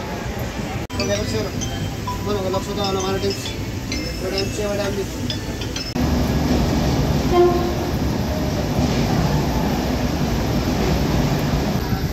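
A Jan Shatabdi passenger train rumbles along near Panvel station with a steady roar, faint speech and clinks early on, then louder, denser running noise in the second half.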